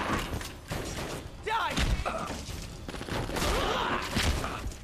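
Gunfire in the video game Red Steel comes as bursts of shots and heavy thuds over game noise, while a voice shouts briefly in the middle.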